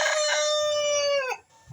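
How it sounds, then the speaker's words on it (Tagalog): A single long rooster crow rings out close and loud, held steady before breaking off, followed by a short cluck. "Ito po yung mga manok."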